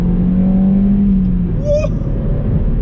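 A Suzuki Swift Sport hot supermini accelerates hard, its engine a steady, loud, close rumble with a rising tone climbing through the revs over a few seconds.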